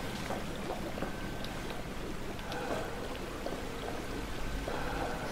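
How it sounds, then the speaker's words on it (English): Steady flowing liquid as chemicals are flushed through a drain at Hawthorn Labs in the video game We Happy Few, a continuous low pouring wash with faint splashes and no speech. "This is where they flush the chemicals."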